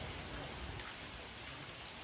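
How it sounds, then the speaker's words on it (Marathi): Steady rain pours down in a dense, even hiss, close and continuous for the whole stretch, with no voices. "आता पाऊस आला बघा पाऊस आला आहे पाऊस सुटला आहे बघा"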